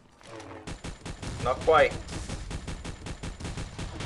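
Rapid bursts of gunfire in the mobile shooter game Pixel Gun 3D, a steady stream of sharp repeated shots filling most of the moment, with a brief spoken remark and game effects mixed in.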